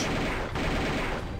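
Chain gun firing in DOOM II, a dense, continuous rattle of rapid shots that stays loud and unbroken with no one talking.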